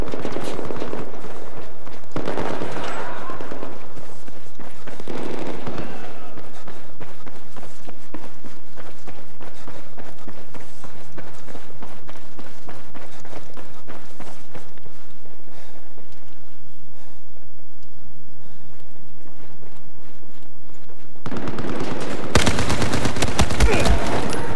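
Battlefield 4 gunfire, loud and sustained: fast bursts of automatic fire mixed with footsteps and running for over twenty seconds, with an especially dense salvo at the end and no talk.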